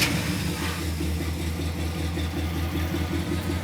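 A Chevrolet Camaro V8 idling with a deep, steady, lumpy rumble, loud and close, with no talking over it.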